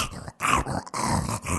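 A police dog growls and snarls in several close, loud bursts separated by brief pauses, rough and aggressive throughout, with no speech.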